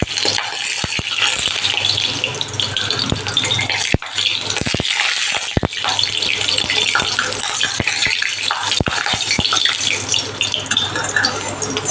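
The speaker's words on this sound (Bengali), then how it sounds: "খুন্তি দিয়ে তেলটা কড়াইয়ের চারিদিকে আমি লাগিয়ে নিচ্ছি।" Cooking oil spread around a hot kadai with a metal spatula, sharp scraping clicks at irregular intervals over a steady sizzling hiss, close and fairly loud.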